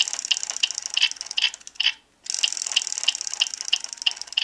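A Kamen Rider Meteor Driver toy transformation belt is spun by hand, giving a fast, steady ratcheting click that stops briefly and then starts again, close and fairly quiet.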